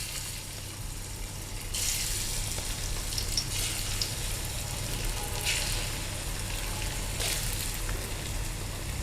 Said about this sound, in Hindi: तेल गर्म हो चुका है, अब इन्हें फ्राई करते हैं।